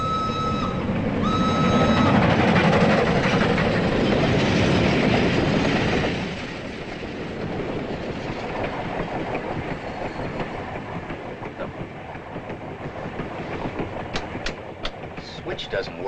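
A European passenger train carriage rumbles and rattles along the rails, with steady clickety-clack and a brief whistle-like tone early on, heard from inside under a dense continuous roar.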